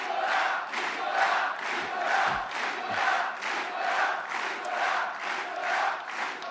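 A crowd at Nicolas Sarkozy's political rally in Poitiers applauding and cheering in rhythmic chanting waves, a large hall full of voices pulsing steadily at a distance.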